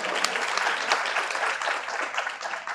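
An audience at a poetry community gathering breaks into applause, a dense, even burst of many hands clapping that carries through the whole short stretch.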